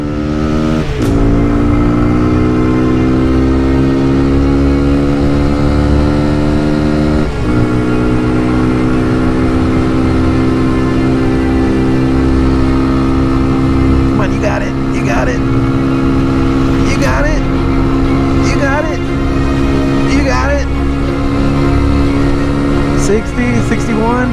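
A vehicle's engine is held at full throttle during a top speed run on the road. It makes a loud, continuous, strained drone that stays nearly steady, with a brief dip in pitch partway through.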